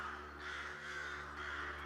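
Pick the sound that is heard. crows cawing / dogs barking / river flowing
crows cawing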